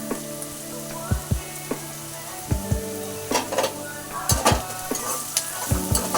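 Chopped onion and garlic fry in a pan for a village-style green gram dish, a constant sizzle punctuated by several distinct knocks and scrapes of a spoon stirring.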